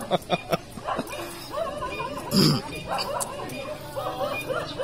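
Stray dogs in a village bark and yip in a few sharp close bursts near the start, with yelps and whimpers mixed under people talking nearby.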